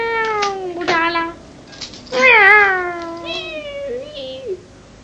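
A cat meows several times in drawn-out, rising and falling cries, close and fairly loud, with a longer wail in the middle and softer calls toward the end.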